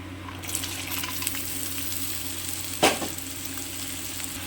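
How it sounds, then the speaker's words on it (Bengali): Potatoes frying in hot white oil in a wok, a steady close sizzle with a sudden louder splattering burst partway through, then settling back to an even crackle. "তেলটা গরম হয়ে গেছে আলুগুলো কষে নেব"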